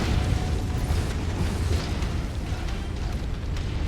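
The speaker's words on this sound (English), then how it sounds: "Explosion imminent." A dense, rumbling explosion with a continuous, roaring low-frequency blast amid mech combat in the MechWarrior 5: Mercenaries video game, loud and sustained throughout with no voices over it.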